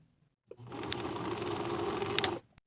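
A sewing machine runs steadily for about two seconds while stitching a dress, a continuous close mechanical whir that starts and stops abruptly, with no talking.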